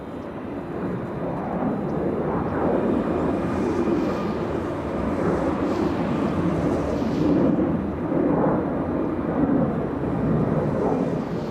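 Airliner arriving on the south side approach to land at LAX, a broad steady jet roar that swells and rumbles continuously, moderately loud and distant, with no voices.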